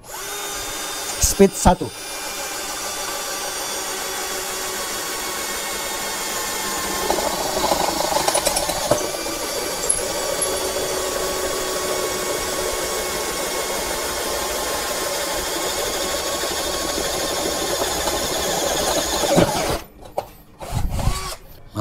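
Bosch GSB 120 Li cordless drill boring through 1.8 mm hollow steel section with an 8 mm bit, a steady close whine lasting many seconds after a brief start, with a few clicks and handling noises at both ends.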